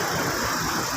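A Hyundai Santa Fe engine idles with a steady, dense hum, close and fairly loud, with no talking.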